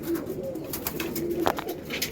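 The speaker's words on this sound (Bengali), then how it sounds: "তুলসী কালশিরা পায়রা" Kalshira pigeons, including a Tulsi Kalshira, coo in low, soft, repeated throaty calls close by, over a steady backdrop of other birds and ambient noise.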